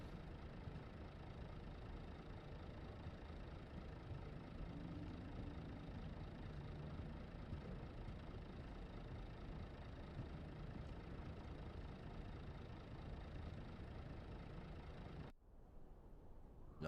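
Engine room machinery in the video game South of the Circle, a constant low mechanical hum that drones evenly, then drops away abruptly near the end.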